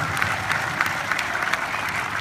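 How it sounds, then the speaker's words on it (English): An audience at a film festival screening claps continuously, a dense, even patter of many hands that stays at a steady level from start to finish. "Big round of applause for Lorne."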